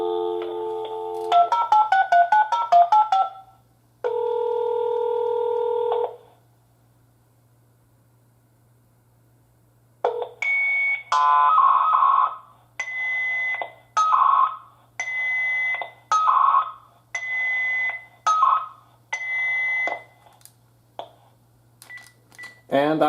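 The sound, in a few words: security alarm DACT transmitting SIA FSK tones over phone line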